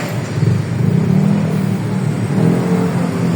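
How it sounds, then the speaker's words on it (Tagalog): Road traffic with passing cars near the UP Town area by Katipunan, heard from a bike: a steady engine whir and a car accelerating close by, continuous and fairly loud, with no talk. "May traffic dito."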